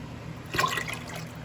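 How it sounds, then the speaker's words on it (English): Sauce being poured from an unsealed home canning jar, a short liquid splash and trickle lasting about a second, close by and moderately quiet. "We're going to go ahead and pour that one in."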